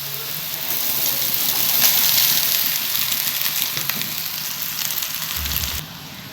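Cooked rice hits a hot pan with gobi for fried rice, giving a steady close sizzle and frying hiss that holds for several seconds, easing slightly near the end with a brief low thump.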